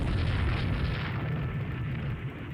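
Torpedo salvo striking a light cruiser in the naval strategy game Rule the Waves 3, a sustained, loud low rumbling boom of explosions that rolls on steadily and fades slightly toward the end.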